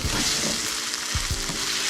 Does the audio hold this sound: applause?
no